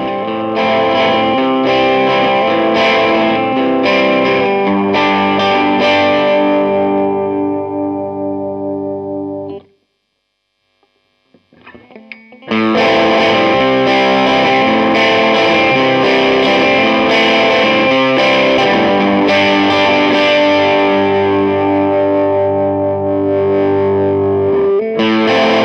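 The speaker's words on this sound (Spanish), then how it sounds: "Con el high peak activado, vamos a lograr más bajos y mayor distorsión. Suena parecido a un amplificador Marshall." Electric guitar played through a Fulltone OCD overdrive pedal with the high peak switch on, giving a loud, thick, Marshall-like distorted tone with heavy bass; strummed chords ring out, stop briefly into near silence, then resume just as loud.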